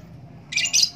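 A short burst of high, bright calls from a young male white-rumped shama halfway through, two quick squawking chirps close by over a low background hum.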